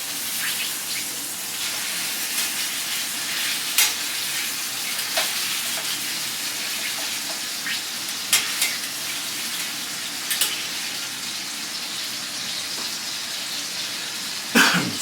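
Hawaiian pork chops brown in a hot pan with a steady sizzle, broken by a few sharp clicks and knocks and a throat-clearing sound, moderately close with no talking.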